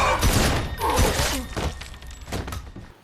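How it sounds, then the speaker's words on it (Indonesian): A burst of gunfire from the Resident Evil: Welcome to Raccoon City film pounds out as a rapid string of heavy thumps and cracks, loud at the start and thinning into scattered impacts, with no voices. "Zombie itu menyerang dan terjatuh setelah diberondong peluru."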